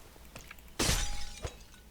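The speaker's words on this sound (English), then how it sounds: "Still not sure what's up with that shattering sound." A sudden glassy shatter in the modded Minecraft Dawncraft game, a single loud crash with scattered debris trailing off, followed by a brief second clink and faint background game sounds.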